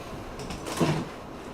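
A drawer in a model railroad workshop slides open once: a short, soft scrape with a faint knock, heard alone against quiet room tone.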